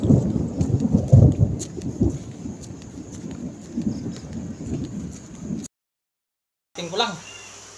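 Thunder rumbles over light rain in a forest at dusk, deep rolling booms with steady patter, loud at first, then a brief silence before a short burst of noise.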